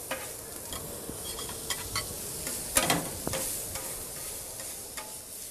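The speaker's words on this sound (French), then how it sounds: "je vais mettre à fondre mes oignons ciselés. Je vais à peine les saisir à l'huile d'olive" Chopped onions sizzling gently in olive oil, a soft continuous crackle broken by a few stirring clicks and one louder spatter near the middle.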